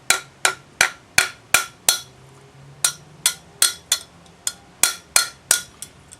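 A silver bangle on a steel bracelet mandrel takes a steady run of sharp, ringing hammer blows, about seventeen strikes with a short pause midway, close and clear with no talk.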